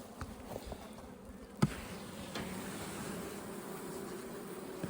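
Honey bees buzz in a steady, low drone from an opened hive during a bee yard inspection, with a single sharp knock partway through from the hive equipment.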